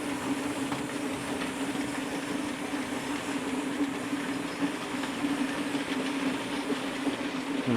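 A steam-era 8F locomotive hauls a loaded anhydrite freight of eighteen wagons, giving a steady, continuous rumble of rolling stock with a low droning hum throughout and no voices.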